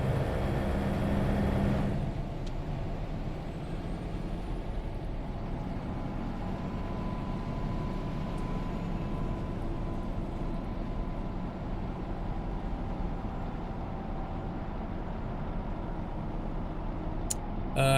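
Inside the cab of a truck in a trucking video game: a steady, low engine rumble and road drone that hums on without change, fairly quiet, with a brief brighter noise at the start.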